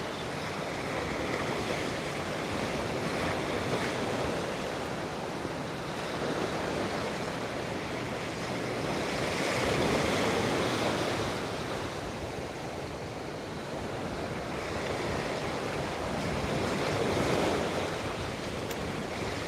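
Ocean waves wash onto a beach in a continuous rolling roar, slow swells rising and falling in loudness, with wind buffeting the microphone and no voices.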